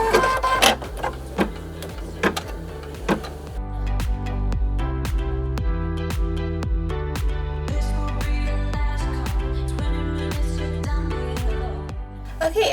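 An embroidery machine stitches out placement outlines for a grouped set of four felt felties, a loud, close mechanical drone with rapid rhythmic needle ticking and pitch shifts as the motors move.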